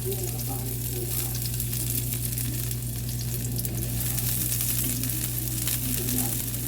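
Garlic frying in hot cooking oil in a pan: a loud, dense, continuous sizzle with steady crackle and a low hum underneath, with no talking.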